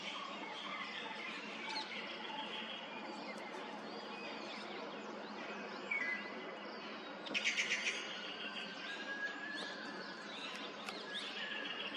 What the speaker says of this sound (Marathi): तसे इथे फक्त पक्ष्यांच्या ओरडण्याचे आवाज असतात.